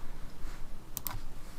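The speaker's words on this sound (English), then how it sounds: "We'll type in the default gateway." A few quick keyboard clicks as an IP address is entered on a computer keyboard, two or three close taps over a low background hum.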